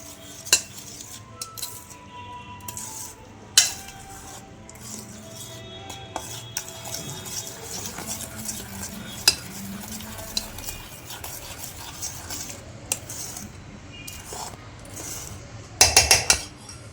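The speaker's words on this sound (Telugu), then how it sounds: "ఇప్పుడు పాలు కేక్ మిక్స్లో పోసేయాలి మొత్తం అప్పుడు మంచిగా కలుపుకోవాలన్నమాట" Milk being stirred into cake mix batter in a bowl, soft wet swishing with occasional sharp clinks of a spoon against the bowl, close and fairly quiet, no talking.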